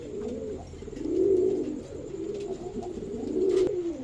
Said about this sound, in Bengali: মাত্র 1500 টাকায় এক জোড়া চিনি কালদম কবুতর